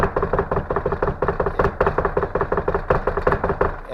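Rapid, continuous tapping imitates the clicks of a fast Morse key being sent without a tone, a dense run of sharp knocks in a quick, uneven telegraph rhythm, close and fairly loud.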